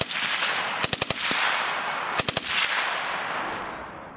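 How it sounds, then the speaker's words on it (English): An integrally suppressed Ruger 10/22 rifle converted to full auto fires two quick bursts of several muffled rounds each at an outdoor range, loud and close, over steady wind or background noise. "So here we go with the full auto."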